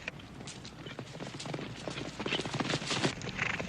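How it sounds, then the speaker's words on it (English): Horses' hooves clip-clopping on the move in a western frontier setting, a steady stream of hoof beats that grows louder and closer over a few seconds. "Get these horses moving!"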